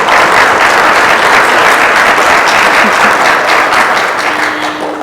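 Loud, dense audience applause at a city State of the City address, honouring a musical performance; continuous clapping from a large crowd, close and full, easing slightly toward the end.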